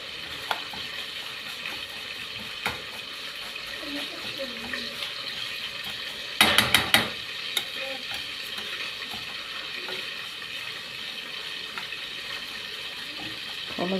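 Vermicelli and sugar stirred continuously in a pan, a soft steady sizzle and scraping under low background noise, broken by a short cluster of sharp clatters near the middle.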